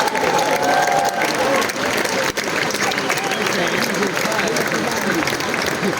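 A large festival audience gives loud, sustained applause at an open-air summer night concert of folk and popular music with orchestras, dense clapping filling the space with crowd murmur and talk mixed in.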